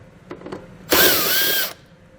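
Power drill or impact driver backing out 7mm bolts on a 2020 Buick Enclave, one steady close whir lasting under a second after a couple of faint clicks.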